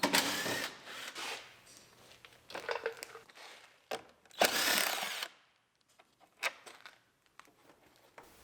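A power tool buzzes in short, uneven bursts while unbolting bumper bolts on a Ram Promaster City van, mixed with nearby clatter and rustling, loud and close with brief pauses between runs.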